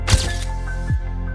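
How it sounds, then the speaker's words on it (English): A quick mechanical camera shutter click followed by a second click, short and crisp, over a faint sustained background tone. "deliver a flash effect with a camera flash sound like"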